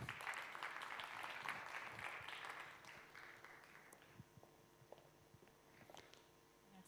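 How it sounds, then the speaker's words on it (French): Audience applause at a conference session on engaged corporate communications. Faint clapping that is fuller at the start, then thins out into scattered claps. "On l'applaudit également."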